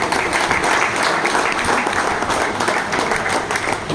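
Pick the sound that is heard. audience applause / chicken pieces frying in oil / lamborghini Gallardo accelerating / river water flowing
audience applause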